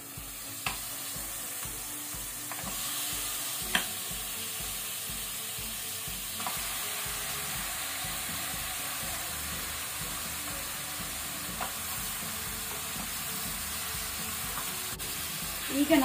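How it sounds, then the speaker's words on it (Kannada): Mutton sizzles with onions in a pan over high heat, a continuous frying hiss broken by the scrape and clatter of stirring, with faint talk now and then. "ಈಗ ನಾವು ಹೈ ಹೀಟ್ ಅಲ್ಲಿ ಇದನ್ನು 5 ಮಿನಿಟ್ಸ್ ಹೀಗೆ ಫ್ರೈ ಮಾಡಬೇಕು"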